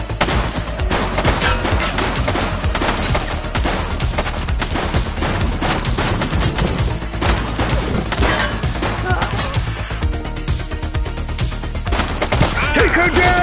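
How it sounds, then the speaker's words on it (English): A video game police shootout fills with rapid, dense gunfire, bursts and single shots crackling almost nonstop, loud and close, with voices talking over the shooting. "She's shooting!"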